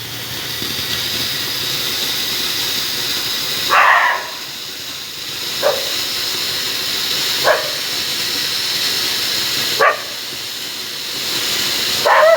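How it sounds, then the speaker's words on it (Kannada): A flower pot firework fountain hisses with a loud, continuous spray of sparks outdoors during a festival evening, while a few brief sharp pops and cracks sound at irregular intervals. "ಇರೋ ಫ್ಲವರ್ ಪಾಟ್ ಅಲ್ಲಿ ನೀನು ಹಚ್ಚಂತೆ"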